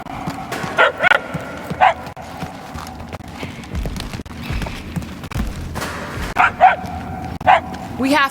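A dog yaps repeatedly in Marvel's Guardians of the Galaxy, sharp barks arriving in short bursts over steady game ambience, with characters talking throughout.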